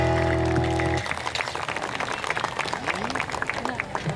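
Crowd applause for a lead guitarist at an outdoor festival concert, breaking out right after a held musical chord ends and continuing as a scattered patter with voices and shouts mixed in.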